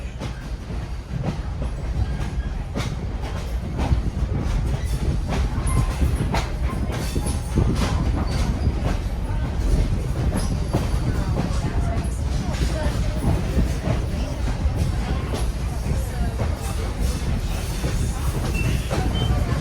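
A Conway Scenic Railroad train rolls steadily along the tracks near Willey Brook Bridge, with continuous rumble and rhythmic clickety-clack throughout, loud and close.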